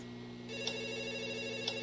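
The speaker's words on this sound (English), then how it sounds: "Answer the phone." A telephone in a horror video game rings with a steady electronic trill that starts abruptly and holds on, marked by two brighter pulses about a second apart, clear and close.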